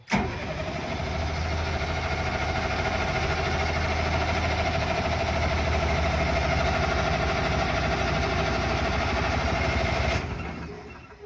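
A broken military generator engine cranks continuously for about ten seconds and then cuts off. The loud, steady mechanical churning has a low rhythmic pulse and never catches to run.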